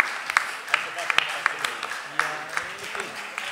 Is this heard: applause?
yes